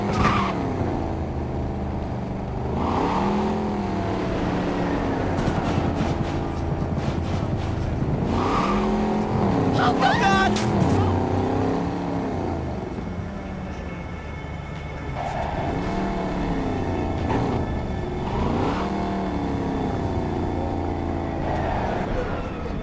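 A car engine runs in the game Cyberpunk 2077, its tone repeatedly climbing and dropping like revving, with occasional tire-scrubbing noise mixed in over a continuous background.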